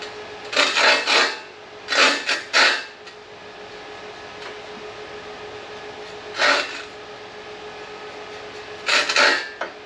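Several short bursts of harsh metallic rasping, like a file scraping across blades, in clustered strokes separated by pauses over a steady background hum.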